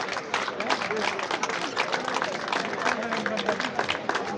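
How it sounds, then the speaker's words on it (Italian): An audience at a Group 5 motorcycle race award ceremony in Lanciano claps steadily, a continuous crowd applause with a voice speaking over it. "Un applauso ragazzi."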